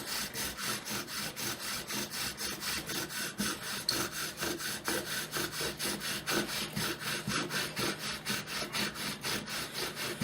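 A wooden spindle is driven back and forth to bore a hole in a wooden board on a slippery table, giving a steady, rhythmic rasping scrape that repeats in even strokes throughout, close and moderately loud with no voices.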